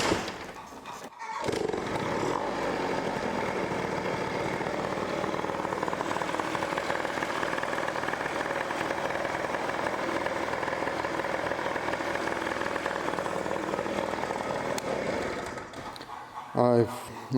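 A restored project scooter's engine sputters to life and runs steadily with throttle revs, a loud continuous buzzing drone that cuts off near the end.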